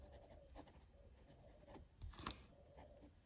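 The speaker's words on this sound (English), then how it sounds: "Let's do a writing sample now." A Jinhao X850 fountain pen with a fine steel number 6 nib scratches across paper in short, faint strokes with small pauses between them, close and quiet, with no voices.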